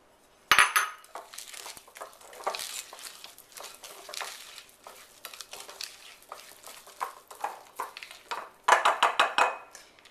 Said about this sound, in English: now what I'm going to do is stir in my mini chocolate chips